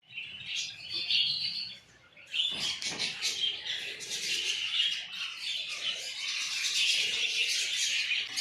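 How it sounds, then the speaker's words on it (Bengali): A small bird chirps and twitters continuously at close range in Deoghar, rapid high tweets running through with a brief pause, no talking. "ছোট্ট পাখি"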